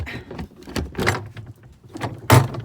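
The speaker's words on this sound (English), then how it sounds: "One of my compost bins, it's hard to open." The stiff plastic lid of a garden compost bin creaks, scrapes and thumps as it is forced open, ending in a louder knock, close up and with no speech.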